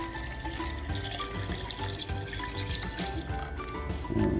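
Water poured from a tap into a large cooking pot on a stove, a continuous soft splashing and gurgling fill heard fairly close, steady throughout with a slight swell at the end.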